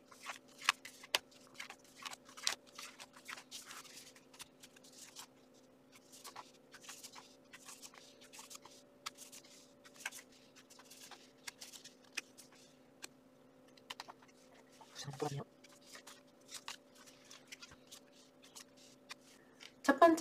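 Tarot cards are shuffled and drawn on a table, giving faint, close rustles and light flicks and taps scattered over a quiet background hum, with a couple of louder handling sounds near the end.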